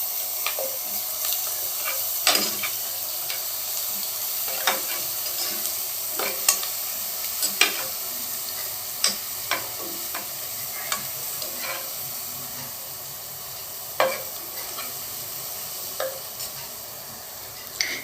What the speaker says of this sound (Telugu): ఇక్కడ కరివేపాకు వేసేసి అల్లం వెల్లుల్లి పేస్ట్ వేసేసి బాగా కలుపుకోవాలి కొద్దిసేపు.